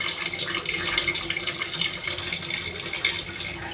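Steady close tap water runs into a sink as cleaned prawns for a chingri curry are rinsed, a continuous bright hiss and splash lasting the whole stretch with no voices.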